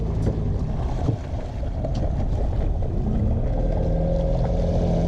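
Small dinghy moving over water in the Florida Keys, a steady broadband rush of water and wind noise, close and continuous, with no talk.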